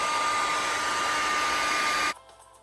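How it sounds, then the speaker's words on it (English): A hair dryer on high heat blows natural hair with a loud, steady whirring roar close to the microphone, then cuts off abruptly, leaving quiet room tone. "I do blow dry on high heat."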